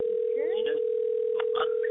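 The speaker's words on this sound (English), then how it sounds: "But we're gonna get Troy on the phone." A telephone call being placed, with a steady tone droning throughout and brief electronic chirps and clicks over it, fairly loud and close, with no one talking.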